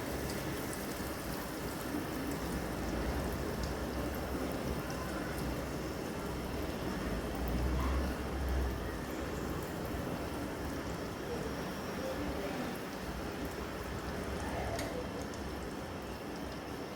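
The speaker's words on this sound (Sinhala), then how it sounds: "බටර් ටික හොඳට රත් වෙගෙන ඉන්නේ" Butter heats in a pan with a constant fine, crackling sizzle that holds at a low, even level throughout, broken only by a faint thump or two.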